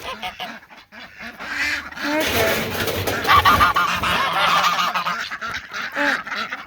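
Geese honk and ducks quack in a noisy farmyard flock settling in for the night, the calls overlapping and rising into a loud, continuous chorus, with a brief spoken word near the start.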